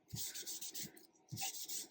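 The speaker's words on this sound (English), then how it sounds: "So I'm just going to get a tissue and give this a rub." Tissue rubbed briskly over ink-coated gold foil pattern paper, three bursts of close, dry scrubbing with short pauses between, alone without talk.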